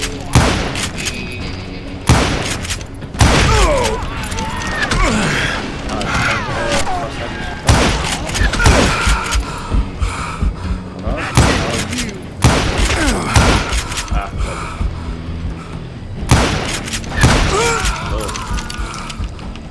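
Gunfire erupts during a train robbery shootout in the Call of Juarez: Gunslinger video game, repeated loud bursts of shots and booming impacts in clusters, with voices talking between the volleys.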